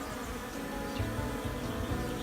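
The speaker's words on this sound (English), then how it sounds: "Look at hear the sound of the bees on it." Bees swarm over a willow tree in spring, giving a continuous close buzzing hum that swells slightly partway through, with no voices.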